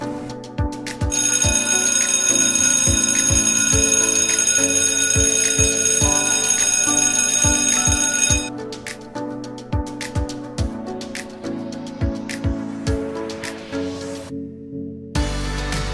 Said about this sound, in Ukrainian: Хай перший дзвоник переливом сповістить про початок нового навчального року.